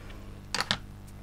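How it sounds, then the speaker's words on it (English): Ordinary scissors cut through a piece of aluminium foil in two quick, crisp snips close by against a quiet background. "So I'm going to cut the piece of foil."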